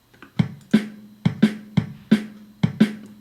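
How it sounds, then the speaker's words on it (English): A basic drum and bass beat at 174 BPM plays alone, with a punchy kick alternating with a sharp snare in a steady repeating pattern, each hit crisp and close. "And the most common one is the kick snare, kick snare, the kick snare, kick snare,"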